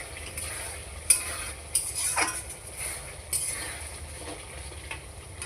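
Chicken stirred in a pan, with soft frying sizzle underneath and a few sharp clinks of a utensil against the metal at irregular intervals, close up with no talking.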